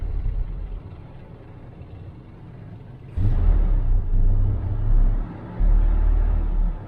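A classic Chevrolet V8 idling after its timing was set, a close low rumble that swells into a louder, deeper idle about halfway through and surges slightly, with no talk.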